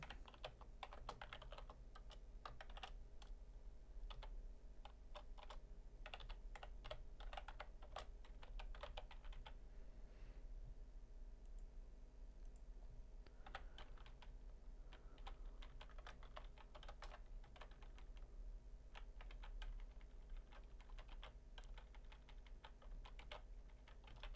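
Code being typed on a computer keyboard: a steady, close clatter of keystrokes with brief pauses, running on its own without voices.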